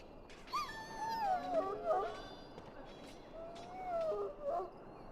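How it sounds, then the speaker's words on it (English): A hurt dog in Dragon Age: Origins lets out high, wavering whimpers and whines in two drawn-out bursts, fairly quiet against soft background ambience. "Now I can treat the dog properly, poor fella."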